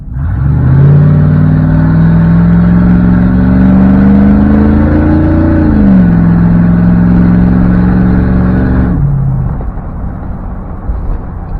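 Chevrolet K5 Blazer with a cheap custom exhaust pulling away hard, its loud, deep engine note rising steadily, dropping at a gear change, then building again before lifting off to a quieter idle.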